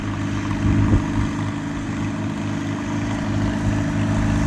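A tractor with a straight-pipe exhaust works a field on plow day, its engine producing a steady, throaty low drone with a brief louder thump near the start, heard at moderate distance.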